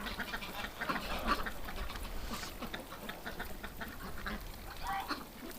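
Ducks in a pen on a freezing winter morning quack in short bursts while dabbling noisily at water, the calls close and fairly soft over a constant background.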